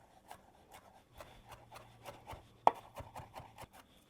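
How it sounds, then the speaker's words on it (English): Fresh herbs and garlic being roughly chopped with a knife on a board, a run of quick, close rhythmic chops and scrapes with one sharper knock, and no talking. "I'm going to put it all in a pile and just give it a rough chop"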